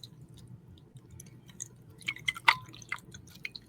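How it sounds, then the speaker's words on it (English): Cognac trickles into a glass in a small pour, with soft close drips and liquid splashes building toward a brief peak, quiet and intimate with no speech. "Hear that little pour, you know."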